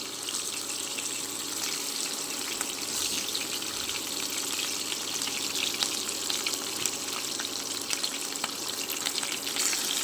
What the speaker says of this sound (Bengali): আমি এইভাবে ভেজে নিব।